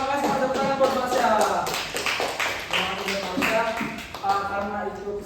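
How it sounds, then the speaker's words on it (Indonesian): Applause from a classroom audience at a university lecture simulation, a dense patter of claps running through the whole stretch at moderate loudness, with talking voices mixed in over it. "Terima kasih tepuk tangan buat Marsha."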